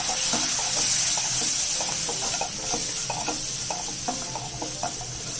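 Prawns with soy sauce sizzle steadily in a frying pan while a utensil stirs them, giving repeated scraping clicks over a continuous close hiss, with no talking.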